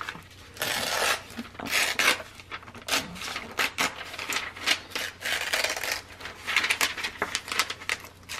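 Paper strips are torn by hand for a belly band scrapbook page, in a series of close, crisp ripping and crinkling bursts with short pauses between them, and no talk.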